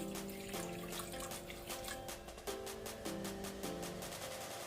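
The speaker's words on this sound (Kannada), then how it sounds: "ಆನಂತರ ಸ್ವಲ್ಪ ವಾಟರ್ ನೀರು ಹಾಕೋಣ." Water trickles and splashes steadily into a pressure cooker holding washed toor dal and chopped tomato, a continuous pouring sound heard against soft tonal background music.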